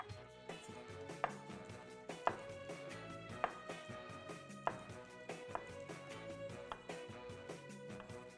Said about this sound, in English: And now I can chop it up.